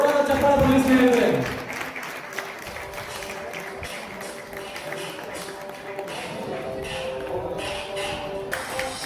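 An audience at a school reunion and teacher-tribute gathering for a 1999 SSLC batch applauds: dense clapping at first that quickly thins into lighter scattered claps and shuffling, with a voice talking over the hall.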